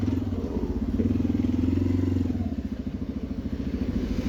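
Honda motorcycles passing on a town street, a loud, close engine drone that rises and then fades with a rhythmic thrum, heard over road noise from a riding motorcycle.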